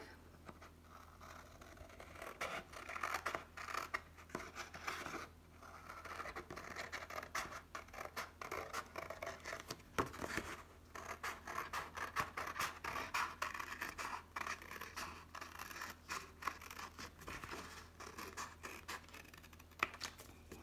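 Scissors snipping through paper while cutting out a polymer clay collar necklace template, a steady run of close, crisp scratchy cuts and rustles lasting throughout with no talking.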